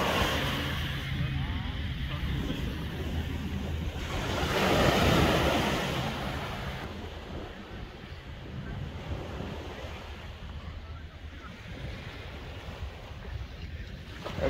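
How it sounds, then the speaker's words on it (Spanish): Surf washing onto the beach at West Palm Beach, Florida, a steady broad wash of breaking waves with wind buffeting the microphone, swelling briefly louder midway and otherwise continuous at moderate level. "Aquí es de la playa de West Palm Beach, Florida"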